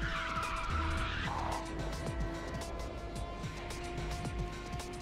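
Car drifting with tyre skid in the racing video game Ridge Racer 6: a loud, sustained tyre squeal over a steady engine roar, fading to continuous engine and race noise.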